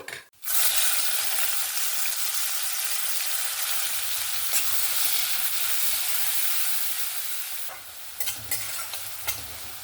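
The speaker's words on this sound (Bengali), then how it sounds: "এবার কুচিয়ে রাখা পেঁয়াজটা দিয়ে দেব" Chopped onion hits hot oil in a pan with whole garam masala, cumin and bay leaves, a sudden loud sizzle settling into steady frying hiss with occasional stirring scrapes, for chicken kofta curry.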